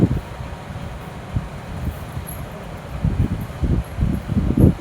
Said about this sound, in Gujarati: અહીં તો કેટલી બધી હવા આવે.